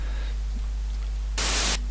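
A white noise synth patch in LMMS plays under a faint hum, mostly quiet and then bursting into a loud, bright wash of noise for about half a second.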